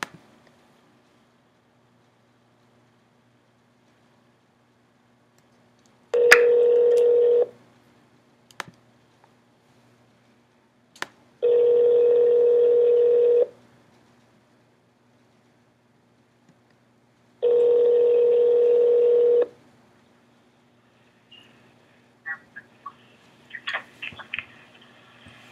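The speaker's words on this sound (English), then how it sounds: "I'm now going to call Mikkel because I can't get through on my phone." Three long steady single-pitch tones sound from a Skype call being placed, each lasting a second or two with gaps of several seconds, followed by faint clicking near the end.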